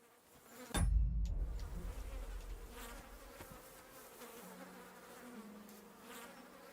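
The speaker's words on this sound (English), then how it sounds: "There's the sound of flies, as in something's dead over here." Flies buzz steadily in a quiet outdoor setting in Kingdom Come: Deliverance II after a sharp thump at the start, the drone wavering faintly throughout.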